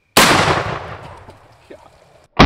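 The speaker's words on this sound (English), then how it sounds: "It's a 3-inch shell. I kind of hate shooting these things." A shotgun fires a 3-inch slug shell at a pumpkin outdoors: one loud, sharp blast with a long decaying echo, followed by the abrupt start of a second loud sound at the end.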